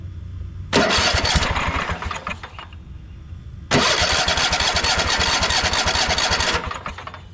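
A Craftsman T240 riding mower engine cranks over at minimal throttle and unchoked in two long bursts, a rapid rhythmic churning that never catches, loud and close with a short pause between attempts.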